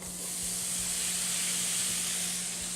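Apples sautéing in butter in a pan that still holds fond from pork chops, producing a loud, continuous close-up hiss and sizzle with no voices.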